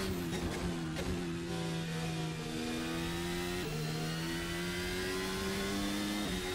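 Race car engine at the Catalunya circuit in a racing game, revving and shifting through gears with rising pitch sweeps and brief drops at each upshift, steady and loud with no talk.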